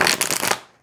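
A deck of cards gets a quick, close shuffle, a brief crisp riffling flutter that fades out within a second.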